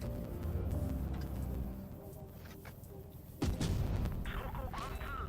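A Ho-Ri tank destroyer in the game World of Tanks fires a high-explosive shell: a sudden loud boom partway through, cutting through rumbling engine and battle noise, with a rolling tail afterward.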